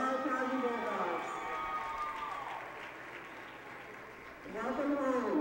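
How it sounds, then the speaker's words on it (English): An audience at a high school gathering applauds for returning alumni. A few seconds of broad, steady clapping fill the middle, with someone speaking over a microphone just before and after. "Please give yourselves a round of applause."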